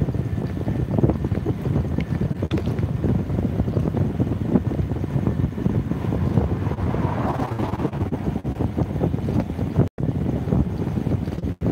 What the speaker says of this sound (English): I don't know if y'all can hear me because of the wind, but yeah, I'm going really fast downhill, so there's a lot of wind